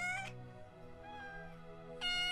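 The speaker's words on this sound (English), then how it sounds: "they hear a cat crying." A cat cries with a few plaintive meows, the first short and the last rising at the end, fairly faint and close with a quiet background.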